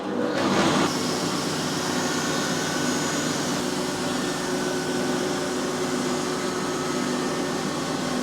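An agricultural machine driven by a belt and pulley starts up with a quick rising burst, then settles into a steady, loud mechanical hum and whir that runs on evenly without pause.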